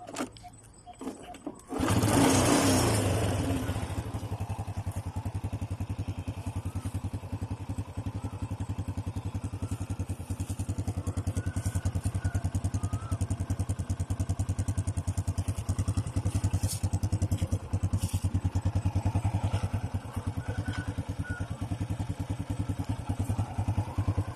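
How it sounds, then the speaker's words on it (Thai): A Honda Dream motorcycle engine idles steadily after a brief start, a continuous low rumble with rattling mechanical clatter, close and fairly loud throughout. "เครื่องดีนะครับฟังเสียงนะครับ"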